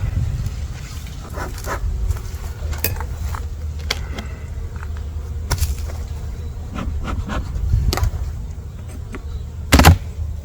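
Honey bees buzz around their hives behind a wood shop as winter approaches, a steady low drone with a few sharper passes close by.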